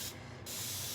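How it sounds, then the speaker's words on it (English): A spray bottle gives two quick hissing bursts of water onto a craft surface, close and fairly soft, with a short pause between them. "I need to spray some more water on here"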